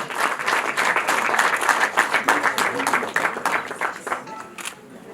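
Wedding guests break into loud, dense applause, many hands clapping together close by before the clapping thins out and fades toward the end, with some voices mixed in.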